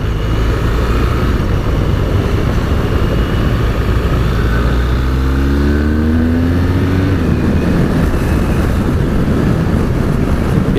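A 2017 BMW R1200RS motorcycle pulls hard on the motorway, its engine note climbing through rising revs amid loud, constant wind roar that dominates the ride.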